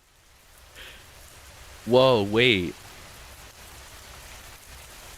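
Blood rain in the horror video game The Butterfly falls as a steady, soft hiss of rainfall throughout, and a man briefly exclaims over it midway.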